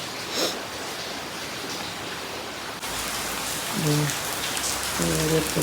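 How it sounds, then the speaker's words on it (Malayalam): Heavy monsoon rain pours steadily during a night-long downpour in Kerala, a dense continuous hiss throughout, with faint brief tones and a small shift in level partway. "രാത്രിയെല്ലാം നല്ല മഴ, കറണ്ടും ഇല്ല. ഭയങ്കര മഴ."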